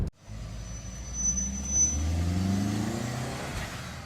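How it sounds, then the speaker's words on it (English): An MK4 Jetta engine revs up and settles back, a mid-pitched car engine note rising under load, while any flutter from the aftermarket diverter valve stays buried in the engine sound rather than standing out as a distinct chatter. "Oh yeah, it's starting to flutter now."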